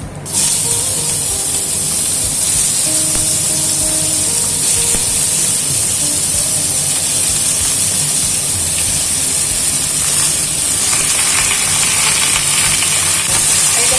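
Whole cumin seeds dropped into hot oil for an ash gourd dish, erupting into a loud, close, steady spitting sizzle that holds strongly throughout with no talk.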